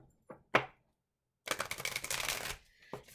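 Oracle cards shuffled by hand, with a few sharp, separate riffle snaps near the start and then a dense burst of rapid flicking that lasts about a second before a final single snap, close and clear with no talk.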